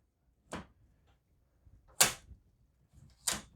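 Three sharp metallic clacks, spaced over a few seconds, come from working the bolt action of an RTI Enfield P-14 rifle, a Mauser-style military rifle, each one crisp and close with quiet between.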